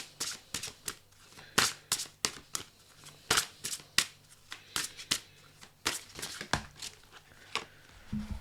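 Tarot-style cards shuffled by hand during a spiritual card reading, a rapid series of crisp riffling bursts and snaps repeating irregularly, close and fairly clear, with no talk over them.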